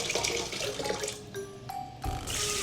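Hot water from a teapot is poured into a basin for washing in a Russian home without running water, a steady close splashing stream that briefly pauses and then resumes, with no talk.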